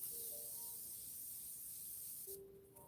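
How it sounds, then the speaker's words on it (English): Spray bottle misting a setting spray onto a face, a soft continuous hiss lasting a few seconds at close range, then a brief faint tone near the end. "I'm just gonna spray some of this Patrick Star on my face real quick"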